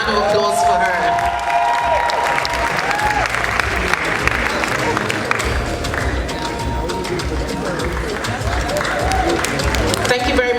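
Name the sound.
applause for Chief Doctor Folashade Okoya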